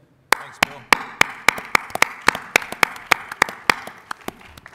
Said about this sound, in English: When you start out getting applauded by your own panelists, you know you're starting good